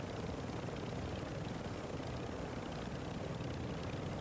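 Video game helicopter heard as a faint, constant rotor and engine drone, a dense even whir with no variation, no breaks and no voices over it.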